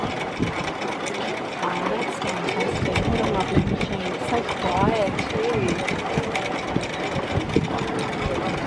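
An antique sewing machine built in 1900 runs at a trade fair, sewing a blanket stitch with a continuous rapid mechanical whirring and clatter, while people talk nearby over a busy crowd.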